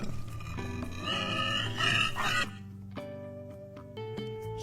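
A toy pig grunts and oinks loudly for the first couple of seconds over a backing tune, then the cheerful melody carries on alone.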